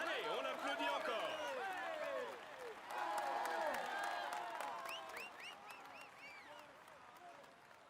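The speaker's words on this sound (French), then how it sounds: "Allez, on applaudit encore." Crowd applause and cheering at the Tour de France 2015 stage 5 podium ceremony in Amiens, heard faintly at a distance, swelling and fading with bright whistle-like tones over the clapping.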